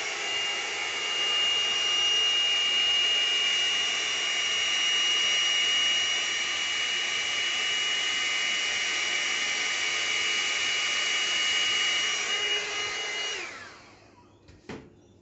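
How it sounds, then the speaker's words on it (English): A small air blower runs steadily at close range, drying metallic acrylic paint on a painted flower, with a constant whirring hiss that lasts about thirteen seconds before winding down and stopping, followed by a brief click. "here we go to my little blower"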